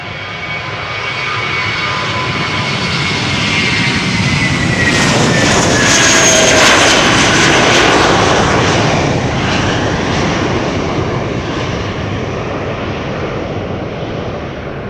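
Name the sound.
Airbus A320 taking off at Schiphol Polderbaan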